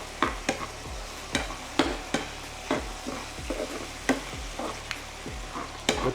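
Meat frying in a pan with herb leaves, stirred in quick regular strokes about every half second over a steady sizzle, close and fairly loud, with no talking.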